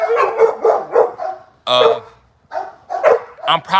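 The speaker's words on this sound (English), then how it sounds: "this is a band dog" A bandog barks and yips up close, a run of loud rhythmic barks, then a whining yelp after a pause and more barking.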